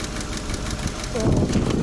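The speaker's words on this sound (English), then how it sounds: "You can see how the engine is really shaking, you know." A Peugeot 407 Coupé ES9A V6 engine with a cylinder 6 misfire runs rough nearby, a steady uneven idle with knocking vibration that swells louder toward the end.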